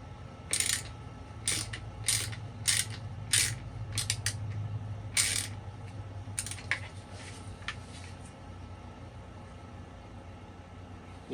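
Screws being tightened on a rifle Picatinny rail give a series of sharp metallic clicks and ticks, irregularly spaced and close, over a low background hum without speech.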